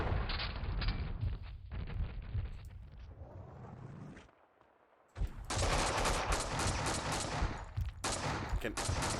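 Sustained gunfire rattles through a Max Payne 2 shootout in dense, loud bursts, pausing briefly before another heavy volley erupts and continues.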